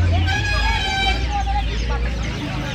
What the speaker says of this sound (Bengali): ব্ল্যাক বার্মা মুরগি দেখুন